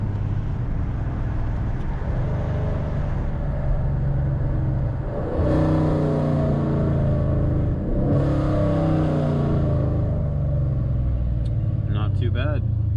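A Dodge Challenger ScatPack with long tube headers and a modified exhaust revs and downshifts, its engine note sweeping up and down in a couple of strong pulls under a steady cabin drone, with a voice talking over it.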